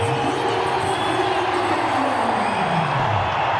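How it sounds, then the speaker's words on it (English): Cricket stadium crowd at an India versus Sri Lanka T20 match, a broad, steady roar of cheering and noise filling the ground throughout, with a commentator's voice running faintly underneath. "The crowd's happy and about again."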